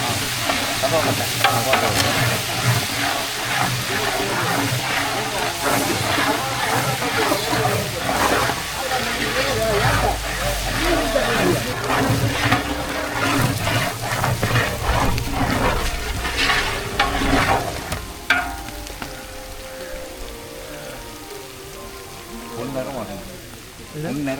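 Ginger, garlic and cardamom frying in a pot for ney soru are stirred with frequent scraping strokes over a loud, steady sizzle, and the sizzle thins toward the end.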